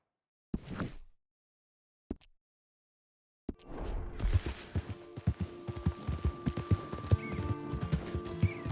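Horse hooves clopping while riding in the video game Red Dead Redemption 2, preceded by two short isolated sounds and then a steady close rhythmic clip-clop over a low background, with a brief whinny-like layer.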